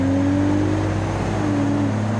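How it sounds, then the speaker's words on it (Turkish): A commercial vehicle's engine accelerating hard in BeamNG.drive during an acceleration test, a steady loud droning whine with rising pitch and no talk over it. "Oğlum gaz kesiyorum şu anda. O kadar hızlı gidiyor araba."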